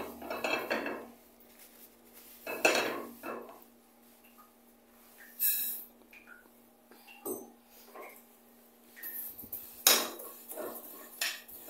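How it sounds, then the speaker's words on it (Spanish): Sesame seeds being dry-toasted in a pan for salsa macha give off scattered clinks and scraping knocks of a utensil against the metal, in short separated bursts with quiet gaps between them. "mientras voy a dorar el ajonjolí"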